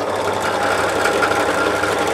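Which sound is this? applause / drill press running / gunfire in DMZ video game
drill press running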